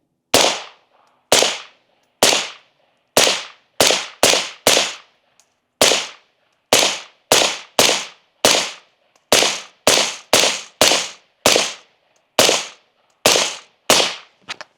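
About twenty suppressed gunshots through a flow-through suppressor, sharp cracks fired at an irregular, fairly quick pace across the stretch, loud and close with near-silence between them.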